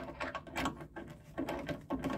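Metal adapter being screwed onto a VEVOR refrigerant recovery unit by hand, faint close scraping and clicking thread turns in a quick uneven rhythm.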